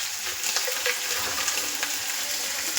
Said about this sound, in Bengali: তার মধ্যে চিংড়ি মাছগুলো দিয়ে এরকম হালকাভাবে একটু ভালো করে ভেজে নেব